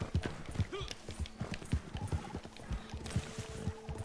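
Horse trotting in the video game Red Dead Redemption 2, quick rhythmic clip-clop hoofbeats at close range with a brief snort, continuing steadily.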